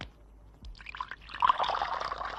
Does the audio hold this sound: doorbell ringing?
no